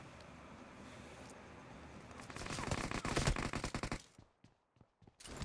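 Automatic gunfire in the mobile battle royale game BGMI while shooting a bot, a dense rapid burst of shots building over ambient game noise, then a few sparse single shots, fairly close.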